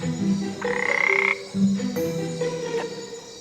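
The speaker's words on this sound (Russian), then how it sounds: "Волшебную лягушку Камбо еще называют лягушкой-обезьяной" A Kambo frog, also called the monkey frog, croaks in the Peruvian forest near Iquitos: a few loud, close calls, each a short burst of rough, buzzing tone with brief pauses between them.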